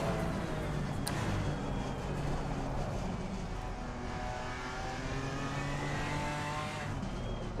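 A BMW M4 GT3 race car engine in a racing sim game drones steadily and loud throughout, with sustained revving and faint tire squeal, no talk over it.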